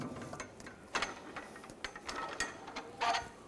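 A jack lowers beneath a 2007-2013 BMW 328i during front strut replacement, giving off a series of close, quiet ratcheting clicks and mechanical creaks.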